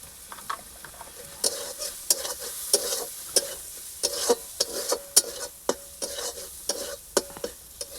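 Turmeric and spices being sautéed in a pan for a Bengali shrimp dish with pumpkin greens, close-up, with a steady sizzle and repeated scraping stirs of the spatula.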